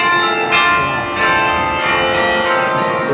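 Cathedral bells in Brussels, close and loud, ringing in layered overlapping tones that sustain throughout, with repeated strikes adding bright attacks roughly every half second.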